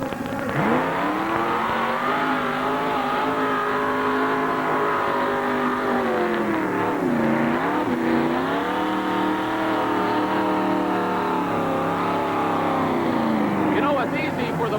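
A mud bogger race truck sits stuck in a mud pit in front of a grandstand at a 1989 mud race in Rockford, Illinois. Its engine drones steadily and loud, with the pitch wavering and dipping midway, under a commentator's voice.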